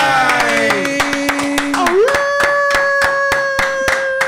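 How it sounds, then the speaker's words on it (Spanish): Studio audience clapping for a guest on a talk show, a series of strong, evenly spaced claps close up over a sustained musical tone that shifts pitch partway through, with no speech. "Un fuerte aplauso a Wolfie"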